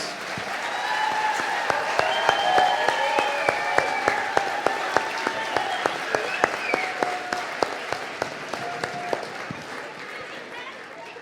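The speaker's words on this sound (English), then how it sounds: "Let's have one more round of applause for our wonderful performers" Parents and audience at a second grade school concert applaud the young performers; broad clapping swells then thins, with a few distinct claps standing out near the end and voices chattering over it.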